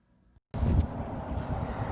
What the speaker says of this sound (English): Look how much wind there is.